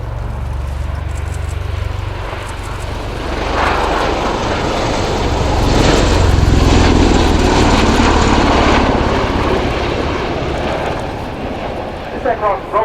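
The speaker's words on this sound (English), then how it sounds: "has now landed on, ready to get airborne again in a very short rolling takeoff" A Bell-Boeing CV-22B Osprey tiltrotor of the US Air Force making a short rolling takeoff at an air display, its engines and rotors roaring loudly and swelling in a broad steady rumble while a commentator speaks over it.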